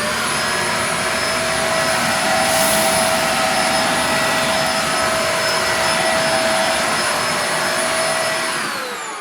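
Shark Apex Zero-M upright vacuum cleaner sucking up a pile of rosemary, a loud, steady motor roar with a high whine that runs unbroken throughout, close up and with no speech.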